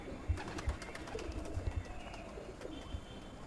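Several female pigeons coo in soft, low, repeated pulses at close range, with faint chirps and a murky background hum and no talk.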